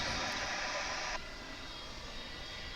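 An MD-11 airliner at DFW airport gives a steady, loud engine roar that is broad at first, then drops to a lower, duller rumble partway through, with no voices.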